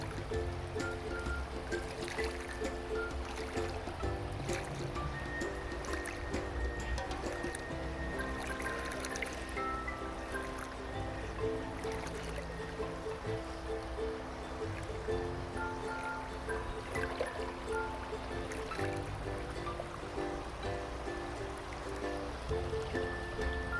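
Freshwater of the Boise River flowing and trickling in a steady, continuous wash, close by and unbroken with no talking.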